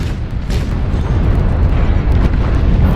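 Twin AC/2 autocannons firing from a BlackJack mech in MechWarrior Online, a loud, continuous rumbling barrage of rapid booming shots with no pause, heavy and close throughout.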